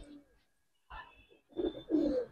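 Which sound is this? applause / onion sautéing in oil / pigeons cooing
pigeons cooing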